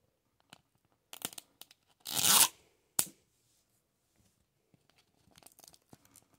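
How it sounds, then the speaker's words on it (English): A zipper pouch of Mini Brands Foodies is opened with a loud, close tearing rip of about half a second. Brief crinkles and clicks of plastic packaging come before it, and a sharp snap and scattered rustles follow. "Open my zipper."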